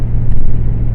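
A 1993 Ford Explorer with a 4-liter Cologne V6 engine drives along, giving a loud, steady low engine rumble heard from inside the vehicle with no talking.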